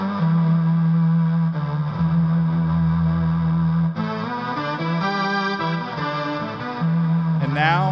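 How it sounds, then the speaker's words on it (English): Instrument audio run through a Space Echo tape-delay effect unit, thick and distorted with a steady low drone, shifting repeats and swirling echoes that build and smear over eight seconds, loud and without voices. "I want to hear that through the space echo"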